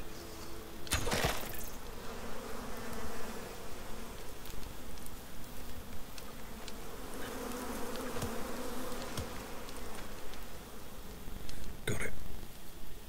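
Bees buzzing around a bee's nest in the survival game ICARUS, a continuous droning hum with a couple of brief sharp bumps, heard near and steady under occasional quiet talk.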